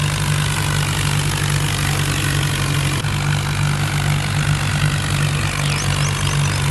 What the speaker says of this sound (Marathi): तर बघू शकता मित्रांनो ट्रॅक्टर काय चढांग गेले